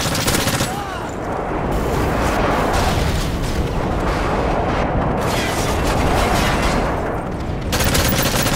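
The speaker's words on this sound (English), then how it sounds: "Enemy airstrike approach." Airstrike explosions from Call of Duty Modern Warfare 3 team deathmatch, a dense, loud, continuous barrage of booms and rattling blasts with no pauses.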